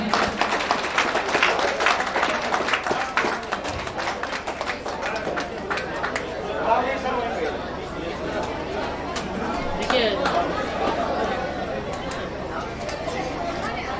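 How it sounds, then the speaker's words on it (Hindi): Clapping rolls through a crowd at a company foundation day celebration, continuous hand claps mixed with loud chatter and voices talking throughout, fairly close and dense for the whole stretch. "मिस्टर जितेंद्र कुमार महतो जी, इनके लिए भी जोरदार तालियां"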